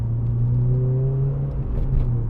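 A 2010 Renault Clio 2.0 VVT Renaultsport three-door accelerating to overtake, heard from inside as a steady low engine drone with a rising tone as revs climb, no talking.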